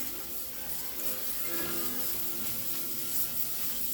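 Collard greens scrubbed clean by hand in water, a steady close rubbing and swishing that continues without a break.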